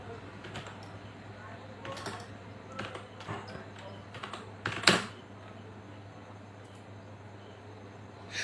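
A computer keyboard being typed on to enter a name, with scattered key clicks in irregular bursts and one sharper, louder tap near the middle, set against a quiet steady hum in a quiet room.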